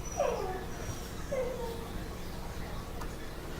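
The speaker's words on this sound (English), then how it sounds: "there's a puppy dog who is not happy with me." Behind a quiet workshop where foam terrain pieces are being cut, a puppy gives two brief high whimpers in the background, faint over a steady low hum.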